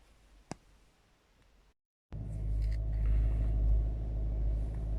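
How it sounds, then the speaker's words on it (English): A Range Rover L322 engine starts up after a quiet stretch with a small click, then settles into a steady, close, low idle rumble that holds evenly to the end. "as you can see, the motor is running"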